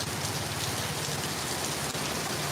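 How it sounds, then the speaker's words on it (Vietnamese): Steady rain falling in a Vietnamese village during the first rain of 2023, a dense, even patter and hiss that runs without a break the whole time, with no voices. "ở đây đã mưa rồi"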